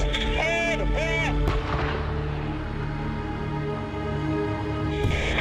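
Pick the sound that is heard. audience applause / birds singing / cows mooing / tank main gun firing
tank main gun firing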